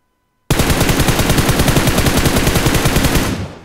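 PUBG Mobile gunfire from a player firing prone: one loud, unbroken automatic burst of rapid shots lasting about three seconds after a short silence, then cutting off.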